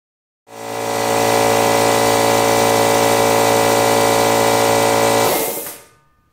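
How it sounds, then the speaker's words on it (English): A Harbor Freight air compressor with an 8-gallon tank starts up, settles into a loud, steady motor-and-pump drone, then stops and winds down with a brief fading tail. "We'll test the Harbor Freight's compressor first."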